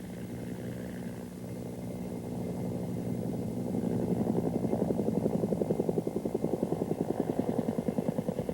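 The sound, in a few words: Bell AH-1 Cobra helicopters flying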